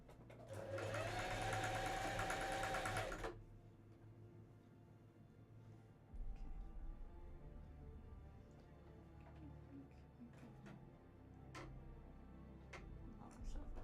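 A sewing machine stitching a cosplay shirt runs in one close, loud burst of a few seconds. A quiet stretch follows with faint clicks and handling noises.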